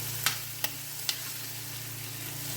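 Vegetables and corn frying in olive oil in a pan give a steady, soft sizzle, broken by three sharp stirring clicks spaced about half a second apart.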